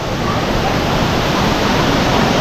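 Bulawan Falls, a river waterfall in Lumalupin, Baler, Aurora, gives a constant, loud broadband rush of falling water with no breaks and no voices.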